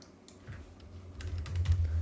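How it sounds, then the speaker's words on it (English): Keys tapped on a computer keyboard, a quick run of light clicks that quickens toward the end, close and fairly quiet, with no voices. "by typing in the size you want"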